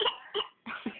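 A voice imitates a grandfather's cough, giving three short raspy coughing bursts close up, with brief pauses between them.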